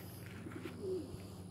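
Racing homer pigeons cooing, a single soft low coo over a faint steady background hum.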